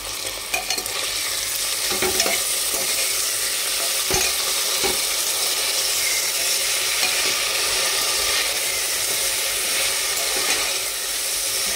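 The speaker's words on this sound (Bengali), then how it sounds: "এবার আমি পেঁয়াজটা দেব, তারপর দিয়ে নেব অল্প চিনি, এটাকে দিয়ে আমি এখন কষিয়ে নেব।" Sliced onion with a little sugar fries steadily in a hot pan, giving an even, loud sizzle with a few scrapes and stirs of a spatula; no talking.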